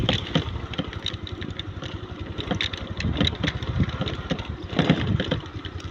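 A motorcycle rumbles over a rough, bumpy mountain track past pipes, its engine chugging in uneven pulses with clattering jolts and knocks as it bounces along, close and fairly loud.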